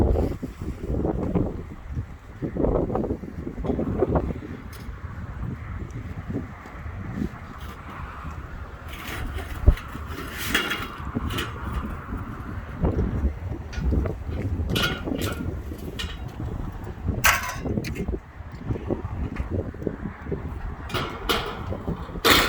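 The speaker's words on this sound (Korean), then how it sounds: "바람 많이 부네요" Strong wind buffets the microphone at a house construction site where a wooden wall frame is being set up, a steady rushing roar with gusty low rumbles throughout, no talking.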